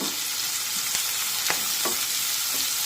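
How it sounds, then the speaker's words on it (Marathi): Finely chopped onion and curry leaves frying in hot oil, a constant bright sizzle with a few soft scraping stir strokes, close and steady with no voices. "एक मध्यम आकाराचा कांदा मी अगदी बारीक कापून घेतलेला आहे, तो यामध्ये टाकूया। परतून घेऊया।"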